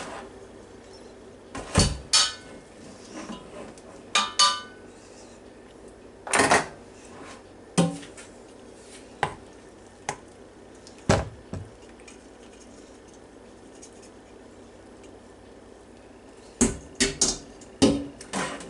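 Pasta salad being mixed in a bowl, heard as scattered sharp clacks and knocks of a utensil against the bowl separated by quiet pauses, fairly close with no talking.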